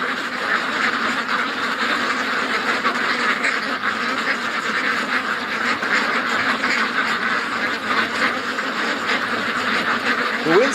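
Ducks quacking by a lake on a cool, foggy morning, a steady chorus of calls from several birds at moderate distance, continuous throughout with wind in the background.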